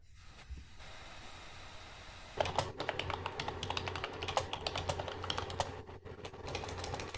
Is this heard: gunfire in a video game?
no